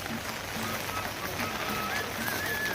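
Steady rain falls in the Almora market in Uttarakhand, making a continuous close patter, with faint voices and a brief whistle-like tone in the background.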